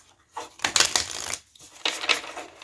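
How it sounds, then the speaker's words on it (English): A deck of cards is shuffled up close, two riffling bursts of crisp flapping separated by a short pause, with no talk. "I'm going to shuffle the deck"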